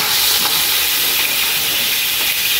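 Curry leaves sizzle in hot oil in a pan, a loud, steady, close hiss with no pauses.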